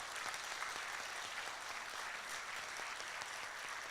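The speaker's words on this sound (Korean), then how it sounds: "두 분한테 큰 박수로 한번 쳐주십시오" An audience applauds continuously at a library opening ceremony, many hands clapping in a dense, even patter heard from a distance.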